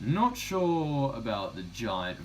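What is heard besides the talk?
None of the usual background noises is heard.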